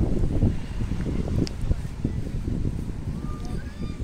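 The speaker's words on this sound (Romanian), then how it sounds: "să mă bucur de bătaia vântului și de jocul lui în pletele mele" Outdoor wind blows steadily in a continuous low rumbling gust that buffets the microphone, with faint distant sounds underneath.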